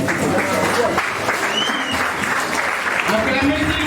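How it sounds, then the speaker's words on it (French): Steady audience applause following a mock trial held by law students, a dense continuous clapping from a crowd that fills the whole moment without pause. "Acclamez s'il vous plaît, acclamez pour ce précieux scène qui vient de se passer."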